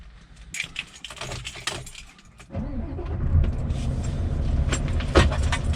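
A Scania lorry engine cranks and starts after some rattling and clicking inside the cab. It then settles into a loud, steady diesel rumble that continues through the rest of the clip, with no talking.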